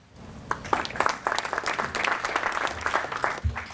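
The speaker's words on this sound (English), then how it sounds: "That's really nice to get a little bit of applause there." Audience applause welcomes a speaker onto the stage at a talk on Portland's population and economy, clapping building quickly and staying steady and fairly close for several seconds before tapering off.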